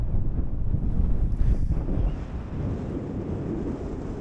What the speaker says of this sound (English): the winds are bang on. We've got gusts around about the 20 to 25 mile an hour.